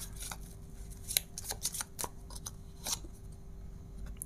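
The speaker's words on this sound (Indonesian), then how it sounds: "Oke, ada kartu Ten of Swords." Soft, scattered riffling and flicking of tarot cards being shuffled, quiet and close, with irregular light snaps over a low background hum.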